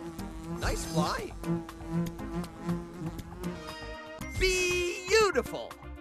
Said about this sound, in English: Uh-oh, bee ahead.